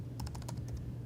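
Quick, light keystrokes on a Chromebook keyboard, about eight soft clicks in a brief burst, close by with a low hum underneath.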